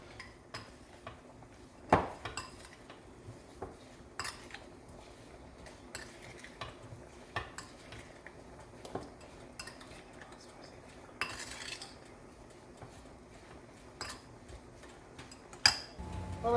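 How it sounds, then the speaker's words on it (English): Pineapple with a pinch of organic ground ginger being mixed in a bowl with a utensil, giving soft scraping and scattered sharp clinks of cutlery against dishware, close and fairly quiet, with no one talking. "And I'm going to mix the pineapple up."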